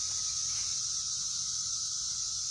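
A dense, continuous high-pitched buzzing drone of millions of cicadas calling for mates, steady and unbroken throughout.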